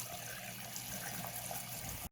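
Water running steadily from a tap to wash washable marker ink off skin, a loud close broadband rush with no talk, cutting off sharply at the end.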